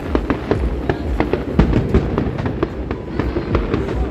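Fireworks burst at night over Busan, South Korea: a loud, continuous run of rapid cracks and pops, close and dense, with no voices.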